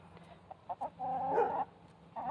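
Backyard rooster giving a faint, close-by crow: a few short clucks lead into a drawn-out call, then a brief clucking follows.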